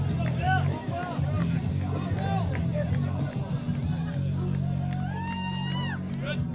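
A crowd cheers on a weightlifter's reps at a strength competition, with loud shouting and whooping voices overlapping in a busy, continuous hubbub.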